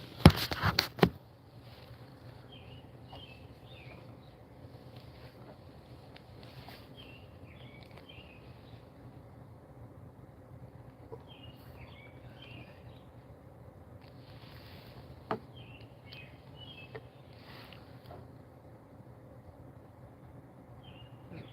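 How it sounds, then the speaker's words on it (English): Scattered bird calls chirp faintly over a low steady rumble of wind and distant noise. "You can hear birds."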